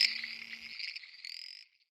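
Frogs in a forest setting give a dense, buzzing trill in steady pulsing bursts, close and fairly loud, stopping abruptly near the end.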